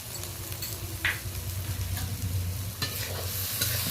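Coriander powder and ginger paste stirred into spices in a hot frying pan for stuffed pointed gourd dolma, giving a continuous close sizzle broken by a few sharp scrapes of the spatula.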